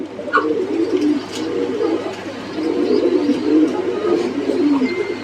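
Mukhi pigeons cooing in a loft, soft low rolling coos repeating in several bouts, fairly close, with faint chirps and a steady background hum.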